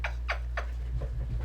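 Abandoned kittens meow three times in quick succession, high and plaintive, then a couple of softer mews trail off over a steady low hum.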